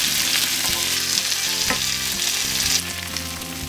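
Cod fillets pan frying in hot oil, a loud steady sizzle close up with a few sharper crackles and spatters as the fish shifts in the pan, no talking.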